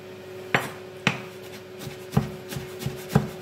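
A knife chops scooped-out zucchini pulp on a board, about six or seven distinct sharp chops at an uneven pace, close and clear with no talk.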